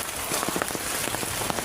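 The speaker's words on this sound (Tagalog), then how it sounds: "Ulan pa more." Steady rain patters on a surface outdoors on New Year's Eve along a narrow path, a dense, even hiss of drops with scattered louder taps throughout.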